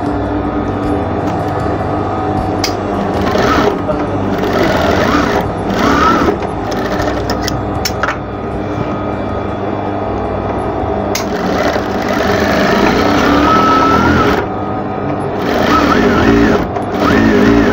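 A loud, close sewing machine stitches an apron, running in long steady bursts with brief pauses and speed changes between them, its motor whir and needle chatter dominating throughout.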